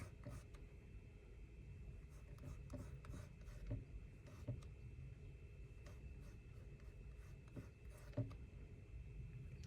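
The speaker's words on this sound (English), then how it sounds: "I'm just going to pick up a little bit of that crayon, and then we're just going to put it directly onto the paper" Crayon rubbed directly onto paper during a Christmas collage craft gives a soft, steady scratchy rasp with a few light taps, close and quiet, with no talking.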